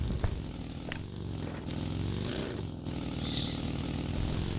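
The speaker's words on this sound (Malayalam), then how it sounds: "ആ ഹെലികോപ്റ്റർ തിരിച്ചു വരുന്നേ" A helicopter in a video game gives off a continuous, droning rotor and engine hum that holds steady and fairly loud throughout.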